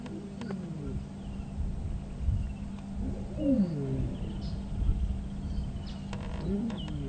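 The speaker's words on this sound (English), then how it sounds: "Because there's been other lion calling." A wild lion calls on a sunrise safari drive in the African bush, low moaning grunts rising and falling at a distance over steady vehicle engine hum and outdoor background noise.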